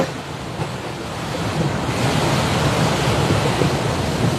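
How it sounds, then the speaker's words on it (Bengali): Waves roll on the high-water Ganges river near a sluice gate with a boat nearby, a broad, steady wash of churning water mixed with wind buffeting the microphone, rising slightly louder partway through. "গঙ্গাতে ঢেউ প্রচুর।"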